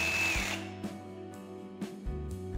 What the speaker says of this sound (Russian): Блоки буду резать при помощи сабельной пилы с победитовой насадкой.